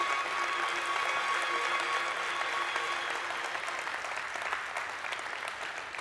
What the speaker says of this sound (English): let's give the Lord a big hand clap